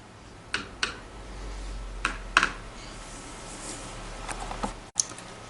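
Screws being removed from the wide back panel of a Dell laptop, a few sharp close clicks and ticks spaced out over a faint steady background hum.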